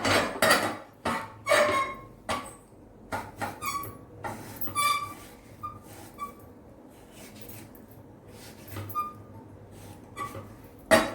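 A knife taps and thumps on a cutting board while tomatoes and onions are chopped in a home kitchen, with irregular sharp knocks and a few faint clinks of utensils, fairly close and without talk.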